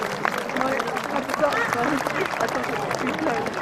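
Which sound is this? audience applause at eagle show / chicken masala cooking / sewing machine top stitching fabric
audience applause at eagle show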